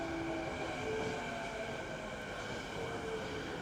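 Train rolling into a station platform in Richmond's Golden Village, a steady broadband rumble with tonal wheel or motor hums held throughout, fairly close and continuous, no voices.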